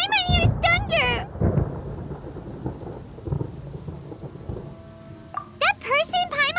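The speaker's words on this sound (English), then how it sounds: "Paimon hears thunder!" Thunder in the video game Genshin Impact, a low rolling rumble with crackling rain texture spanning the middle of the scene, while voices speak before and after it.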